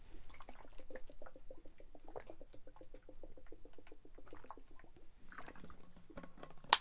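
A person drinks water right beside the microphone, producing a close, quiet series of rhythmic gulps and liquid clicks that repeat steadily for several seconds.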